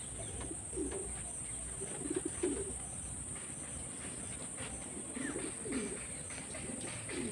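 Several Madras pigeons coo softly in low, repeated bursts in a pigeon loft, with a steady high insect hum in the background.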